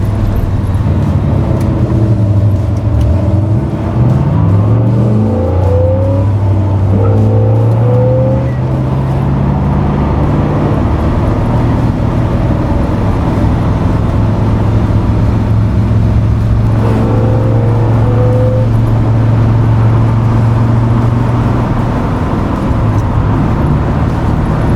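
A 1965 Corvette coupe with a 327 V8 and four-speed manual drives along a country road, its engine loud and close, revving up and down through gear changes in a steady rising and falling drone with no talk.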